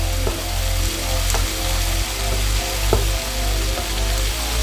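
Black pepper shrimp and asparagus stir fry sizzling in a hot pan, a loud continuous crackle with a few sharp clinks and scrapes of utensils stirring, close up.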